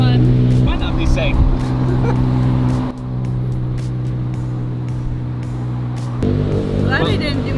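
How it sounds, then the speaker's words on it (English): A tuk-tuk motor drones loudly through Bangkok traffic, with engine and road noise rising and easing as it rides along and people talk over it. "Now we're headed to our next location via tuk-tuk."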